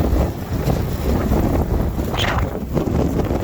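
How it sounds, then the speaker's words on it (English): Strong wind gusting outdoors in flood-hit Merritt, British Columbia, during a storm, roaring and buffeting the microphone with a heavy low rumble throughout. "Woo, it's windy."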